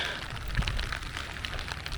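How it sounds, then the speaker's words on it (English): Heavy rain pours down outdoors at a drag racing timing setup in Guyana, a faint, steady patter and hiss of drops on surfaces with no voices. "The rain has come down very heavily"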